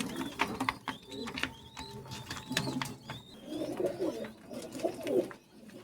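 Oman Teddy pigeons coo in soft, low, repeated bursts at close range, with a faint rustle and light clicks behind the calls.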